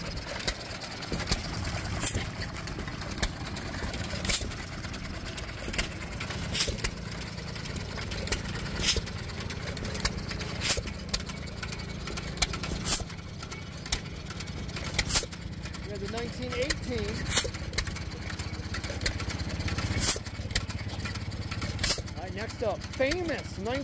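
Antique hit-and-miss engines, including a 1927 John Deere and a Pyramid double-action piston pump, running at a Maryland show, with sharp intermittent pops and chugs over a busy outdoor rumble while people talk nearby.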